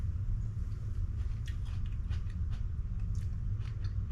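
Someone chews a spoonful of homemade lacto-fermented salsa, with soft, moist crunching bites repeating close up over a steady low rumble, no talking.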